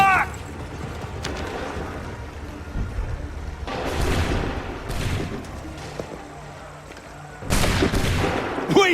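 Musket volley gunfire in an Assassin's Creed 3 cutscene, several loud broad bursts crashing out at intervals, the last one heaviest, over a rumbling battlefield background.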